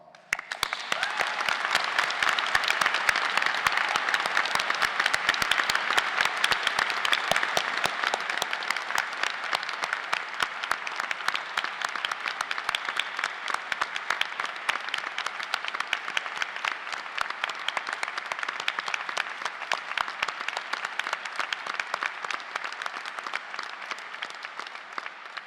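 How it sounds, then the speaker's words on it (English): Sustained, loud applause from a large audience fills a graduation ceremony hall at an Open University degree ceremony in Ely, steady dense clapping throughout that thins only slightly toward the end, with no talking over it. "let us start today's ceremony by giving our amazing graduates a huge round of applause"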